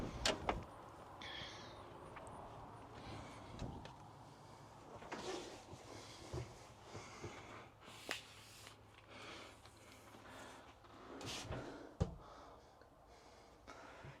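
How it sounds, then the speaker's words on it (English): Doors of a 1996 right-hand-drive European micro van with 69K miles are opened and shut, a series of faint clicks and muffled clunks spaced irregularly over a quiet background. "You can open this door, back door, and this side door, and then you can pop this up."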